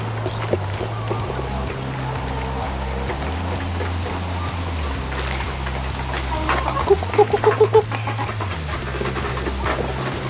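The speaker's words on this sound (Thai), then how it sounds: "ดูบรรยากาศไก่กินข้าวกันหน่อยสิ" Chickens clucking as they eat at a Thai countryside cafe farm in Ratchaburi, with a steady low engine-like drone underneath and a short burst of sharper clucks near the end, no talk.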